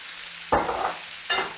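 Peppers, onions and paprika frying for paella get two short stirs, scraping bursts over a soft background sizzle, close and fairly loud.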